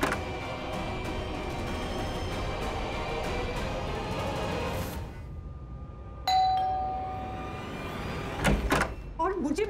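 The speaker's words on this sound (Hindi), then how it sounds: "दोबारा घंटी मत बजाना" A doorbell chimes in a home, sounding clearly partway through after a noisy stretch, followed by door clatter and movement.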